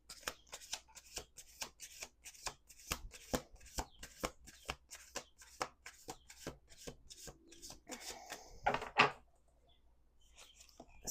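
Playing cards are shuffled repeatedly in a steady run of crisp riffles and card slaps, close and clear, ending in a short louder flutter and then quiet, with no voices.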